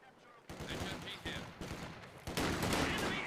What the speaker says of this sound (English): Double MG42s.